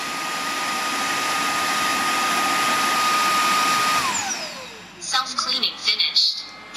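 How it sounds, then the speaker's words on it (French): Eureka RapidWash NEW630 tilting floor washer in its self-cleaning cycle: a loud, steady motor whir with a spinning brush that winds down after about four seconds, followed by gurgling, clattering bursts. "Je vais lancer l'auto-nettoyage."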